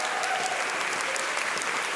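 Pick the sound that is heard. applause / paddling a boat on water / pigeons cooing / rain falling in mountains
applause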